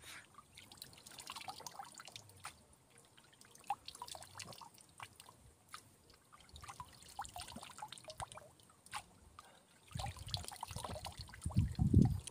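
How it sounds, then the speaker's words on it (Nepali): Clear stream water flows along an irrigation channel, heard as faint, scattered trickling and dripping with a few louder gurgles near the end and no voices. "एकदम स्वच्छ सफा पानी छ खोलाबाट बगेको पानी"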